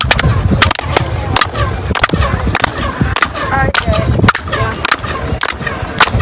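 Repeated sharp handclaps at the Chichen Itza pyramid, each followed by a chirping echo like a quetzal bird's call, against a busy crowd background.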